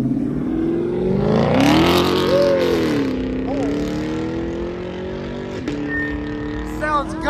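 A Ferrari engine revs at an exotic car show, a loud, close roar that climbs steeply in pitch, holds, then settles into a steady high idle with brief blips, people talking over it.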